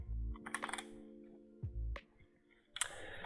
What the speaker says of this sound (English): Okay, let's type here